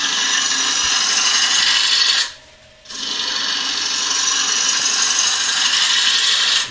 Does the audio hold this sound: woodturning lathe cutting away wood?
yes